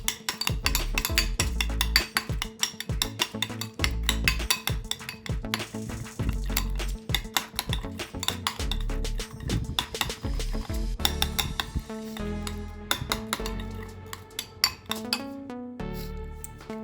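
A spoon scrapes and clinks steadily against a bowl while masago mayo sauce is stirred, with continuous close clattering and tapping and no talking.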